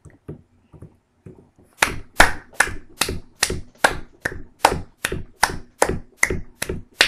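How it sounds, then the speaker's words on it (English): Steady hand clapping, a dozen or so crisp claps at an even rhythm, close and loud, after a few softer taps, in a Minecraft-style game session. "I'm clapping because the popcorn's done."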